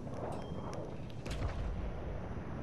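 Warship guns fire shells in a naval video game, booming low rumbles layered over continuous battle noise, a heavier blast rolling in around the middle of the short span with no talk.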